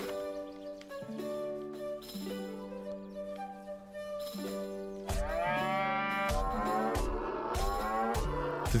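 Cows low on a farm field in the South Park: The Stick of Truth video game, long drawn-out moos layered over a steady musical game backdrop, growing fuller and more crowded toward the end.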